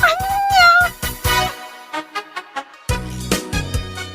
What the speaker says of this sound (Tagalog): Agkaywara dagiti pusa.